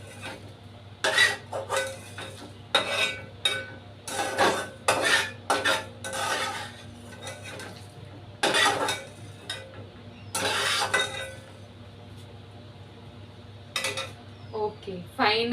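Roasted coriander seeds are scraped out of a hot pan onto a plate, making repeated close metallic scrapes and rattling clinks in irregular bursts over a low background hum.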